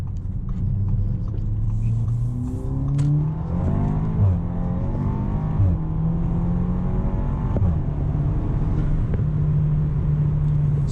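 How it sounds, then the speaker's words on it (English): Tuned Audi A4 B9 with a 2-liter turbo engine and JB4 tune, accelerating hard in sport mode, its loud interior engine drone climbing steadily through gear changes with rising whine and occasional shift breaks, no talking. "let's go in dynamic, sport, nice C8, and you guys can hear what it sounds like"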